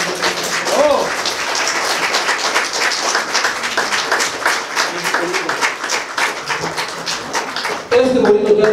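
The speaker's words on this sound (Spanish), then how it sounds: "Le pido a todos ustedes que le brindemos un fuerte aplauso a don Gonzalo" Steady crowd applause at a cross-raising ceremony, with dense clapping throughout, loud and continuous, with a voice briefly heard near the end.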